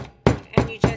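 Rosehip seeds are hammered under parchment paper on a stone surface: three sharp, evenly spaced blows land close by, each a hard knock with a short ring, and a faint tail of a fourth comes before the first.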